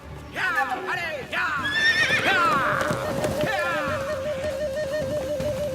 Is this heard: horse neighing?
yes